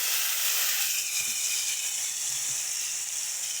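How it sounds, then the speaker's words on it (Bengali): Spice paste of chilli, turmeric, cumin, coriander, ginger and garlic poured into frying potatoes for a fish curry, giving a steady, bright sizzle and hiss that holds evenly throughout. "ওই মশলাটা ঢেলে দেবো এর মধ্যে।"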